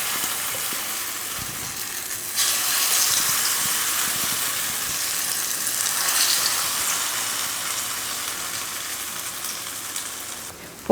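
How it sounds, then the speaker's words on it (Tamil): Raw banana slices frying in hot oil, a steady crackling sizzle that jumps louder as pieces go in, continuing at moderate volume throughout without any talk. "எண்ணெய் காஞ்சதுமே ஒவ்வொரு வாழைக்காயாக எடுத்து வச்சிடலாம்."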